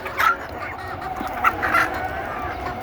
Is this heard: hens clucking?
yes